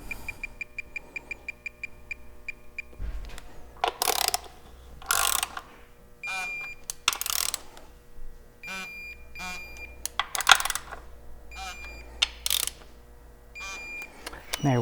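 Torque wrench ratcheting on the timing cover bolts of a Toyota 4.7 V8 during a timing belt job, heard as bursts of sharp mechanical clicks with clanks and shop noise between them, close and fairly loud.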